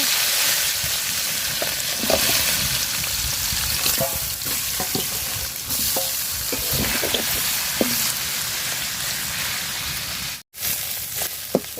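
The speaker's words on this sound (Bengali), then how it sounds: "ছোট মাছগুলো কড়া করে ভাজা নিচ্ছি" Small local fish fry crisply in hot oil, a loud, continuous close-up sizzle broken by scattered pops and stirring knocks, with a short dropout near the end.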